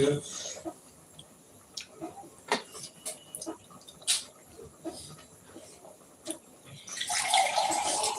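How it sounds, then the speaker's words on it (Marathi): Scattered kitchen clatter and clinks give way near the end to a burst of water running from a tap, close and fairly loud. "पाणी"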